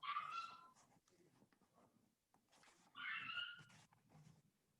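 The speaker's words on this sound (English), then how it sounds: "my dog barking in the background's not bothering you too much" A dog whimpers and yips in the background of a home tutoring session, two faint bursts of high whining separated by quiet, with soft indistinct sounds between them.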